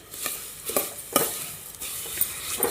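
Dry coconut, cashews and almonds fry in ghee for payasam, with a soft, faint sizzle broken by a few sharp spoon scrapes and clinks as the pan is stirred.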